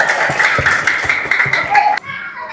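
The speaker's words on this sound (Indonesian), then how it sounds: "Kita sambut dengan tepuk tangan yang meriah" An audience at a family-resilience talk claps to welcome the speaker on stage: rapid, fairly close clapping over a steady tonal background, ending abruptly.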